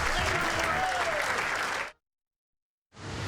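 Bowling crowd at the Rollin' Thunder 2017 event cheering and applauding loudly and steadily, a dense wash of clapping that cuts off abruptly, then returns after a second of silence.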